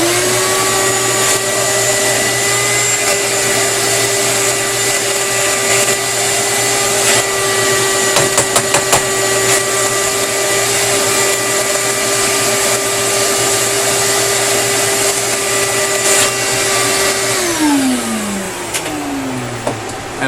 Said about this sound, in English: Take out a shop vac.